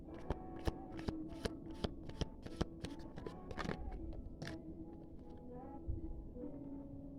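Tarot cards being shuffled up close, a steady run of crisp riffling flicks and sharp card snaps against a soft, continuous background hum.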